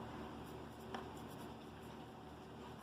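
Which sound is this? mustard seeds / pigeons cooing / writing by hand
writing by hand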